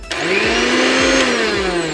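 A mixer grinder with its jar fitted runs at a steady, loud motor whine with a constant mechanical hum throughout, no speech.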